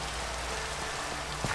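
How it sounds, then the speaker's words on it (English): Steady rain falls in Minecraft with the Biomes O' Plenty mod, a continuous even hiss of droplets with a faint patter, with no speech over it. "Hopefully I can sleep soon so we can get rid of this rain"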